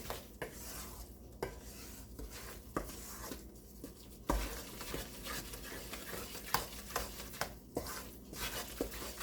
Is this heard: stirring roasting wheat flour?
yes